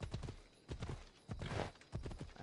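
Horse hooves clip-clop in Assassin's Creed Odyssey, a few quick clusters of steps at a moderate pace, fairly close and alone without talk.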